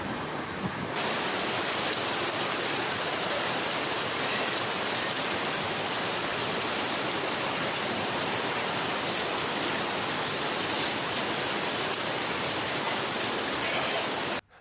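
Floodwater rushes in Guangxi, China, a loud, steady, broadband roar of churning water that continues unbroken and alone before cutting off abruptly at the end.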